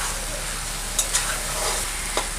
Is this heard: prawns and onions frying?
yes